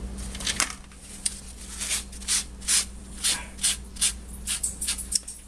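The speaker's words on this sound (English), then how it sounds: "I want to put a little bit of penetrating oil on here, because this might be rusted in." Penetrating oil sprayed onto a rusted part of a Sears Craftsman sander combo, heard as a string of short, close hissing bursts in a steady rhythm over a low constant hum.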